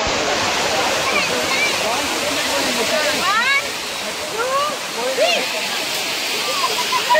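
Water overflowing from Bhushi Dam near Lonavala, pouring down steps in a loud, continuous rush, with people's voices and shouts scattered over the roar.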